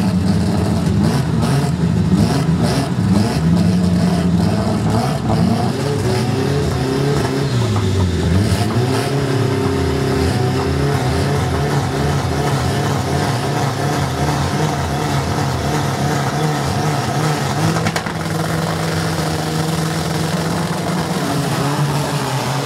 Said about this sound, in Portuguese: carro de número 4, pista da esquerda, Marcel Falafa